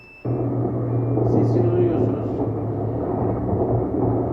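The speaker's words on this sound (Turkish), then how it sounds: "motorun sesi geliyor" A steady engine drone with a low hum starts abruptly and runs on evenly, with a few faint higher sounds drifting over it.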